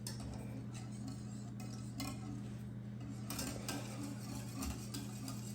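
Chocolate trifle mixture is whisked in a bowl, producing quiet rapid ticking and clinking strokes over a constant low hum, with a few louder metallic taps.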